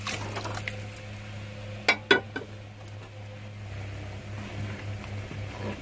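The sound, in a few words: water poured into the tempering pan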